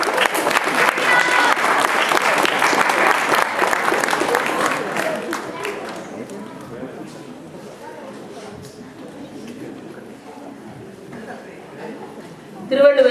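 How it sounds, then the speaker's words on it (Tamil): An audience at a school Thirukkural recitation event claps loudly to welcome a performer dressed as Thiruvalluvar. The dense applause fades after several seconds into quieter crowd murmur and voices, with a brief burst at the end. "இதோ கைத்தட்டி வள்ளுவரை வரவேற்கலாமா?"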